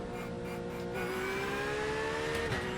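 Porsche GT3 race car in iRacing at Daytona at night, engine whining steadily and climbing in pitch as it accelerates, with a brief shift near the end, no talking.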